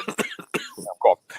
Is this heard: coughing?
yes